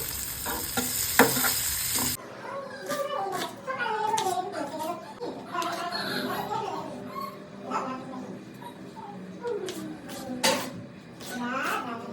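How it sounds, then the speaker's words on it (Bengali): Vegetables being fried quickly in a pan, with a loud sizzle and repeated stirring, scraping and clinking of a utensil against the pan; voices can be heard talking intermittently underneath. "এদিকে সবজিগুলোকে ঝটপট করে ভেজে নিই"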